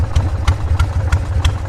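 A Harley-Davidson motorcycle idles close by, its low engine thumping in a steady loping rhythm with a sharp clattering tick about every third of a second.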